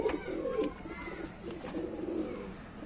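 Madras pigeons cooing nearby, giving soft, low, rounded coos in a loose repeating rhythm over a faint steady background hiss.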